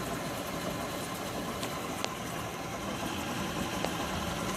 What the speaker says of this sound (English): This is going to start spinning.